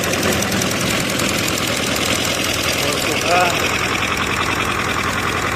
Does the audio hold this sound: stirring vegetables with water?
no